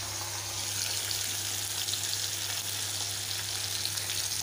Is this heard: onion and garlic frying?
yes